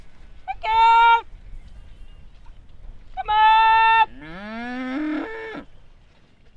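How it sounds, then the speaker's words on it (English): Dairy cows in a herd at Mokotua, Southland, moo in three loud, drawn-out calls close by, the last one rising and wavering, with a brief word spoken between them. "a herd of friendly dairy cows in Mokotua in Southland"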